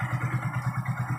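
A Hero Glamour motorcycle engine runs steadily after a bearing repair, a regular low pulsing thrum close by with no squeak or clatter.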